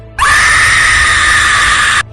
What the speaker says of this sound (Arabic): صرخة غريبة